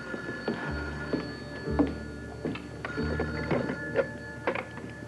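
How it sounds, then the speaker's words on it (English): A telephone bell rings in repeated bursts about a second apart, fairly close and clear indoors, with faint room noise between rings. "We better get the phone."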